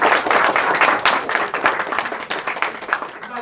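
A bookstore audience gives warm applause welcoming author J.A. Jance, a loud, dense burst of clapping that holds strong and then gradually thins toward the end.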